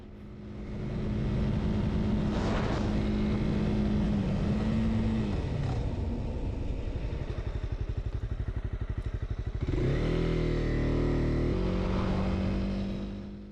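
A 2023 Honda CB300R motorcycle engine drones steadily and loudly as the bike brakes hard from 80 km/h, the tone dropping partway through, then a shift and a rising rev near the end.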